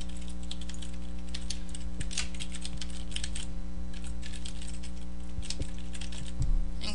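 Rapid, continuous tapping on a computer keyboard as account information is entered on a website, close and steady with a low background hum and no talking.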